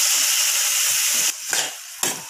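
Bitter gourd sautéing with tomatoes in a pan for a Tamil pavakkai kulambu, a steady close hiss of frying broken by two short louder bursts of stirring toward the end, with no talk.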